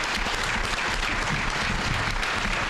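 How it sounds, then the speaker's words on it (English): Dense, steady clapping from a township debate crowd, loud and sustained with no voices standing out. "You deserve a round of applause."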